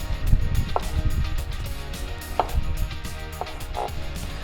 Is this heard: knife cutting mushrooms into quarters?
yes